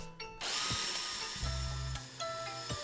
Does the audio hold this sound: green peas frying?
no